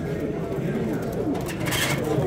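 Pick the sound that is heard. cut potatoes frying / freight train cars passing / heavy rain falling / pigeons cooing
pigeons cooing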